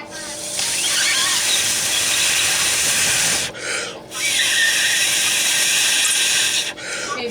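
Steady breathy hissing of someone blowing hard into a small hole in a raw eggshell to force the contents out the bottom, in two long sustained blows broken by short pauses.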